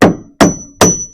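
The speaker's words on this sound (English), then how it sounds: "That way when I hit it with my hammer," Three sharp metallic hammer blows land on a nut threaded onto the end of a carriage bolt, evenly spaced and close, each with a brief ringing tail.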